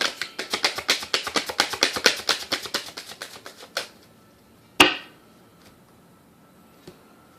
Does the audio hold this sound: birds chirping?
no